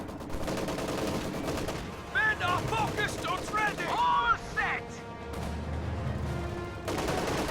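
Gunfire from riflemen and a Kübelwagen in Company of Heroes 2: a dense stretch of rapid, overlapping shots and bursts with booming impacts, loud and continuous under the battle noise.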